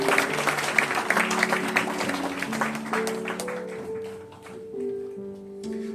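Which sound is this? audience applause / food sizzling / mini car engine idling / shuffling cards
audience applause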